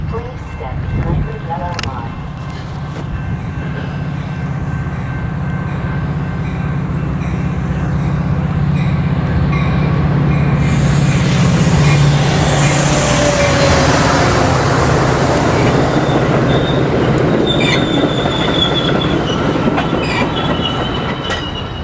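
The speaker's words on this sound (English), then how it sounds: "Let's go see the train." A train rumbles past on the rails in Wilmette, Illinois, building to a loud close roar with clattering wheels and metallic squeals before slowly easing off.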